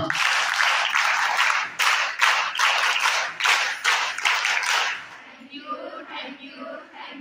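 Audience applause at a health talk, loud, dense clapping for about five seconds that drops away abruptly into faint murmuring.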